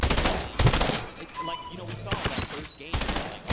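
Rapid bursts of gunfire in a first-person video game shooter, loud and close, with automatic-fire volleys coming in clusters and pauses between them as a player talks over the action.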